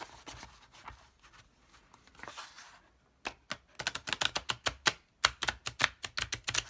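Cards riffle in several quick shuffles close by, soft fumbling at first, then bursts of crisp, rapid clicking flutters.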